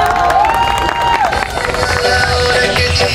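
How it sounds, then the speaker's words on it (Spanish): A crowd at a Teletón rehabilitation centre presentation claps and cheers continuously, with shouts and whistles riding over the steady, loud wash of applause. "recibamos con un fuerte aplauso a nuestras amigas y amigos de Maipú en"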